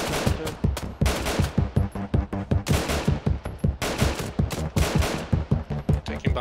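Rapid bursts of automatic gunfire in the Halloween horror video game Cabin in the Hills, loud and close, sharp repeated shots in a steady driving rhythm with no pause.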